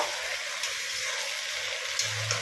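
Ground cumin, coriander, garam masala and turmeric are stirred into a Bengali mushroom curry in a pan, giving a soft, close sizzle with light scraping over a couple of seconds.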